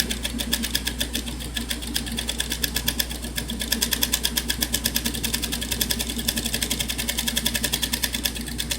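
A sewing machine runs steadily, stitching gathers into fabric with a fast, even mechanical chatter of the needle, close and continuous with no pauses.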